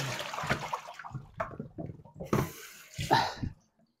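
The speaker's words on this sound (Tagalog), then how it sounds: "At tapos na po ako naghuhugas ng ating plato." Running tap water splashing while dishes are washed by hand, arriving in irregular bursts with short gaps, close by and moderately loud.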